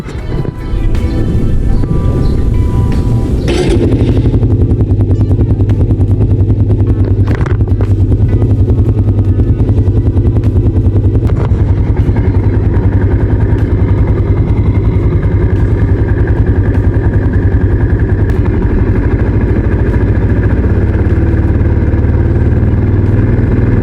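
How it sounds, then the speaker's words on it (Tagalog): A small motorcycle engine fires up with a quick starter crank after a spark plug check, then settles into a loud, steady idle that runs close and continuous for about twenty seconds. "Ayos, moment of truth, bubuksan ko na yung engine."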